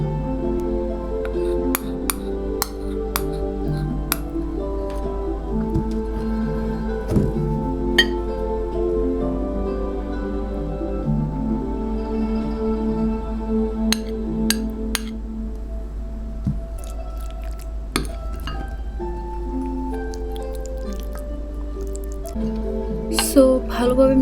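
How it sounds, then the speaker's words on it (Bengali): Tuna, mayonnaise and other onigiri filling ingredients being stirred together in a bowl, giving soft wet squishes and light clinks against the bowl over a continuous tonal background. "এখানে সবগুলো ইনগ্রিডিয়েন্ট একসাথে অ্যাড করে নিচ্ছি এবং ভালোভাবে মিক্সড করে নিব।"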